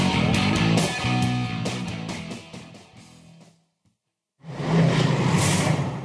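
A black pickup truck revs and accelerates in a radio ad, a loud engine roar that fades into a brief silence, then bursts back in strongly.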